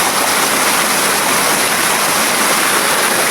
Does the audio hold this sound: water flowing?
yes